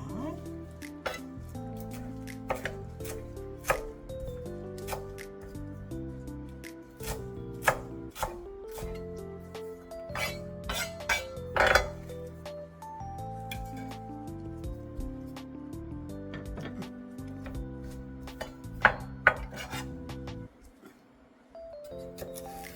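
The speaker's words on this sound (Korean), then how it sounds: "샐러리 줄기도 조금 더 썰어 보겠습니다." A knife chops celery stalks on a cutting board for a homemade bacon risotto, tapping in a steady close rhythm over soft background music.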